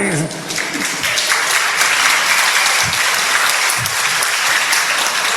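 Church congregation applauding during a confirmation service, loud dense clapping sustained throughout with a few voices mixed in.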